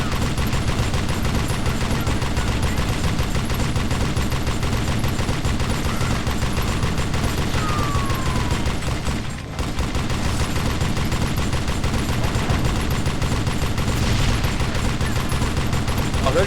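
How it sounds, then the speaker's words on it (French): Continuous gunfire from the Western shooter Call of Juarez Gunslinger rattles loudly and densely throughout, with a brief dip near the middle before the shooting resumes at full intensity. "Je ne sais pas où je tire, mais je tire."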